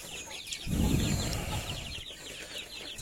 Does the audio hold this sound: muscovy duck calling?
yes